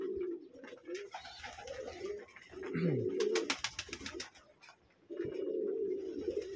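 Racing pigeons coo in their loft in repeated low throaty phrases, with wing flaps and rustling between bouts and a short burst of sharper sounds in the middle.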